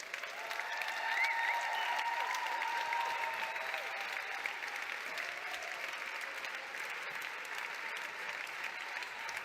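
Sustained audience applause at the finale of the 2023 EINE WELT Song Contest, steady and fairly distant, filling the hall without a break.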